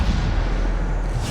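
A Bombarda explosion spell in Hogwarts Legacy booms heavily, a dense sustained blast of low rumble filling the whole moment with another burst swelling at the end.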